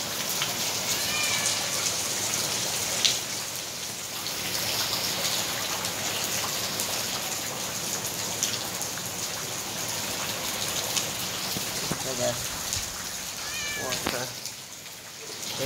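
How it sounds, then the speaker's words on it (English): A cat meows repeatedly indoors during heavy rain and flooding, its cries rising over a constant hiss of rain and running water, while a person talks now and then. "The cat inside my house."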